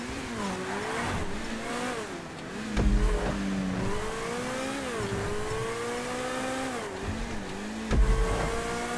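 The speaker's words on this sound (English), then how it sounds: "Oh, a car's dying again." A car engine in the video game GTA V revs steadily with rising and falling pitch, sharp bursts of acceleration cutting in twice, loud and continuous with no voices.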